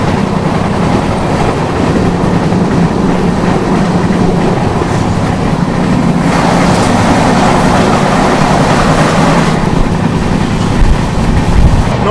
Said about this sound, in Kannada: ಇವಾಗ ನಮ್ಮದು ಧಾರವಾಡ ಬೆಂಗಳೂರು ವಂದೇ ಭಾರತ್ ಬರ್ತಿದೆ